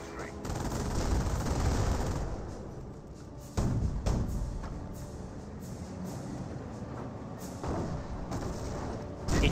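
Battlefield gunfire in the World War II strategy game Company of Heroes, sustained machine-gun bursts and rattling fire with heavier booms, loud and continuous, while voices speak over it.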